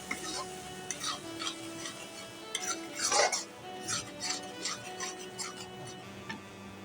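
Bitter gourd seed paste stir-fried in a pan, with a metal spatula scraping and clinking steadily against the pan over a constant low sizzle, close and moderately loud.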